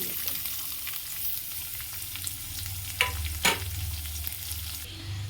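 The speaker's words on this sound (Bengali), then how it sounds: "কালো জিরে দেব তারপরে কিছু পেঁয়াজ কুচি দিয়ে দেবো" Chopped onions and black cumin frying in a pan, a constant hissing sizzle with a low background hum and a couple of louder spatula scrapes near the middle, no talking.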